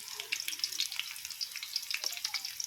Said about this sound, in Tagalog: Mikos-mikos ko ng mga sibuyas at bawang guys.